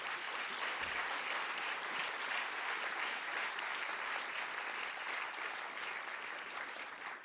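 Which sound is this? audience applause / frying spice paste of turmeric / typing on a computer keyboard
audience applause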